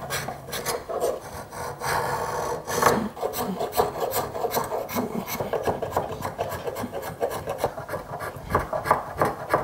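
Rasp or file rounding over the wooden body of a handmade hand plane, with continuous rhythmic rough scraping strokes, close and steady throughout with no talking.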